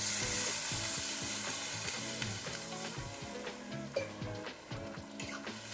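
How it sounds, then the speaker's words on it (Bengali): Water goes into a pan of fried spices for a Bengali pointed gourd curry, and a loud, close, hissing sizzle fills the clip. It fades slightly as it settles, with no talking. "এখন তো হয়ে গেছে কষানো, দিয়ে দিচ্ছি জল।"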